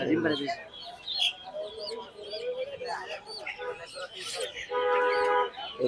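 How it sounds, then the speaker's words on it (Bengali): Chickens, Egyptian Fayoumi among them, at a crowded poultry market, clucks and chirps mixed with nearby voices and bustle, fairly close. "এখানে আসলে আজকে ফাউমির অভাব নাই অনেক ফাউমি মুরগি"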